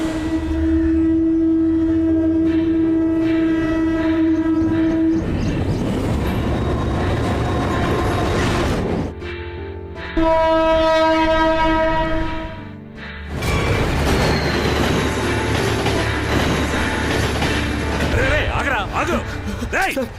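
A train rumbles through Taramani railway station in Chennai with a sustained horn and heavy, rattling wheel and carriage noise, loud and close, ending in a second blast of the horn.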